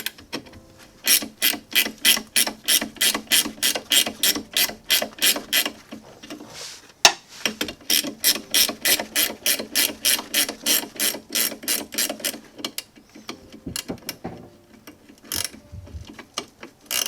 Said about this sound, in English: That is, because I used a ratchet there,